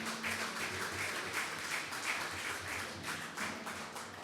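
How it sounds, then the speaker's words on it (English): Audience applause at a city State of the City event for board members, a steady crowd of many hands clapping with no talk over it, filling the whole stretch at even loudness. "let's clap, right?"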